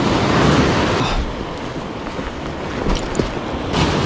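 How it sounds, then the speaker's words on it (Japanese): Small, weak ocean waves wash against the shore at a fishing spot, a broad steady rush with wind buffeting the microphone and no voices. "波弱え、超弱いな。"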